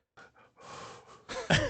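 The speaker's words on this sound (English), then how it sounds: "he hasn't mentioned breathing into the microphone yet" Close breaths go straight into a microphone: a few short, soft puffs build into louder, rougher gasping exhalations at the end, with no talking.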